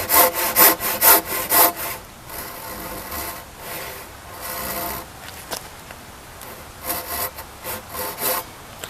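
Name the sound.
sawing cross cuts in a timber frame girt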